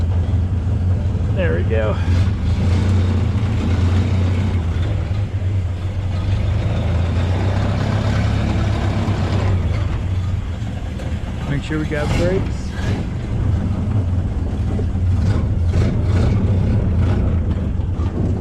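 A truck engine idles loudly and steadily inside a garage as it warms up before backing out. The deep rumble is constant throughout, and someone talks briefly over it.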